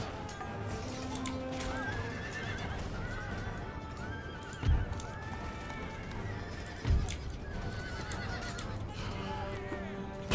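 Horses neigh and whinny in the Empire: Total War battle game, several calls scattered across a busy field soundscape, with hoof clip-clop, low thuds of distant fire and general battle ambience, no voices.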